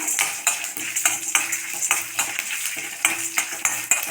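Chana dal, coriander and chili are stirred in a pan for a field bean tamarind curry, giving steady rhythmic metallic scrapes and clinks from the spoon with a faint frying hiss underneath. The sound is close, with no talk.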